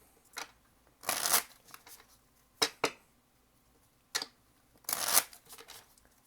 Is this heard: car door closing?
no